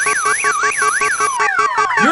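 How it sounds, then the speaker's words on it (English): A Screaming Mimi car alarm from the game You Don't Know Jack blares loud and close, first as a rapid rising-and-falling whoop with pulsing beeps, then switching to downward sweeping wails and fast chirps. "Does everyone ignore your car alarm? Well, there's no ignoring the Screaming Mimi."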